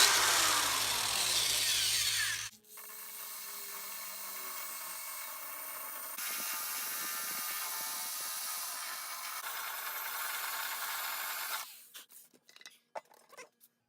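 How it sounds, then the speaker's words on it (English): A small Black & Decker electric drill whirs steadily for several seconds at close range, changing pitch once, then stops and gives way to a few scattered clicks and taps. "I like this little Black & Decker drill"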